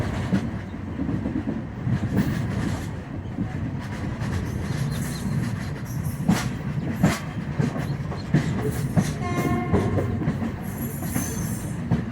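A Konkan Railway train rolls steadily along the tracks between Diva and Mangaon with rumbling wheels, rhythmic clacks and occasional squeals, loud and continuous throughout.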